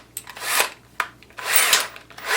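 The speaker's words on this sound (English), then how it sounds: "drill bit again and drill through, making sure it's the same hole in the same spot" A 3/8 inch bit driven by a power drill bores through a clamped wooden picnic table board, in three close bursts of whirring and grinding with short pauses between.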